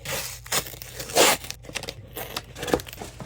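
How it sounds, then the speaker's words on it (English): A blade slices the seal on the packaging of a portable foldable booster seat, followed by crinkly tearing and rustling of plastic in short close bursts, with no talking. "So let's cut the seal"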